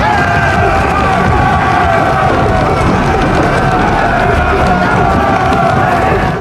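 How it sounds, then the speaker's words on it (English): A large crowd of Viking warriors rushes in, a loud, dense roar of shouting and cheering voices with running bodies, sustained and unbroken throughout. "Without much thought, the crowd rushed in like a swarm."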